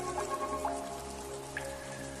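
Rain patters in the forest where hummingbirds bathe, scattered drops landing over a steady wet background, with faint bird chirps threaded through.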